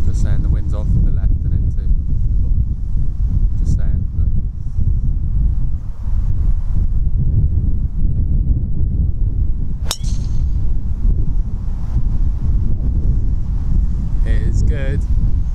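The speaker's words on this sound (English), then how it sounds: "Just saying, the wind's off the left." Wind gusts across a golf course, a steady low rumble buffeting the microphone throughout, with a sharp metallic clang near the middle and people talking over it.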